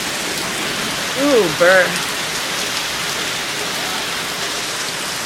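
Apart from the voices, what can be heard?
heavy rain falling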